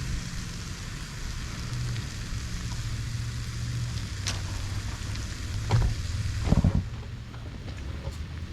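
Sweet potato leaves and eggs cooking in a pan, a soft steady sizzle with faint crackles and a few brief clatters, quiet and continuous with a low background hum.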